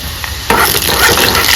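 Onions fry in a pan, a brief burst of loud sizzling that jumps in midway and carries on with a stirring scrape.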